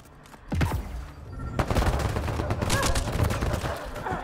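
Rapid gunfire from a Mass Effect Andromeda firefight, a dense barrage of bursts and shots that starts after a brief pause and keeps going loud and continuous, with some speech mixed in.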